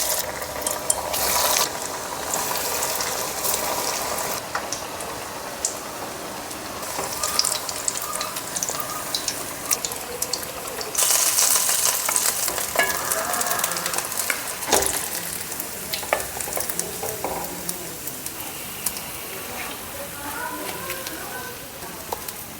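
Egg cutlets dropped one by one into hot oil, frying with a busy, close crackle of popping and spitting that runs the whole time with small clicks and bumps mixed in.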